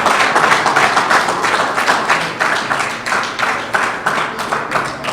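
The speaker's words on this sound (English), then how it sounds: "Give her a round of applause one more time." Audience members at a religious gathering clap, a loud, close patter with sharp individual hand claps standing out and rhythmic surges, continuing for several seconds.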